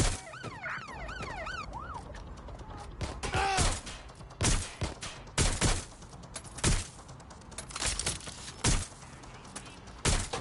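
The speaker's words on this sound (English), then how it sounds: "I'm taking fire!" Gunfire during a police chase in the video game Watch Dogs: Legion: a siren wails at the start, then loud, sharp shots crack out in irregular bursts against engine and street noise.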